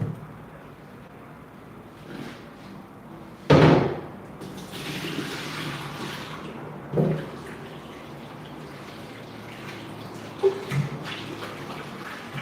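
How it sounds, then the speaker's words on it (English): Sliced potatoes for Indian bhajias are rinsed in starchy water in a kitchen, with soft sloshing and trickling and one louder splash, then a few small clinks and knocks. "And now we are just going to rinse out this water."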